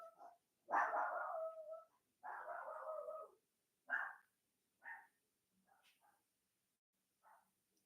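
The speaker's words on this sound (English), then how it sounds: "Chaos going on outside, y'all. My dog is going crazy." A pet dog barks excitedly at a commotion outside, with a run of loud, close barks and yelps in uneven bursts separated by short silences, then a few fainter yips.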